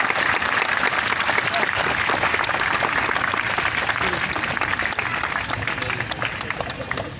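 Sustained audience applause at the opening ceremony of a Sahitya Akademi book fair, dense steady clapping throughout, loud and continuous, tapering slightly toward the end, with no talk over it.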